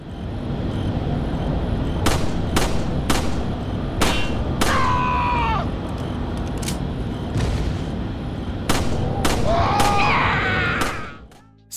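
Repeated gunshots against Ganados in Resident Evil 4 during a gondola ride, about ten sharp cracks spread unevenly over a steady mechanical hum, with short vocal sounds between some of the shots.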